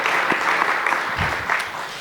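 An audience at a 2020 annual meeting breaks into applause, a steady wash of clapping hands held at an even, fairly loud level for its whole length.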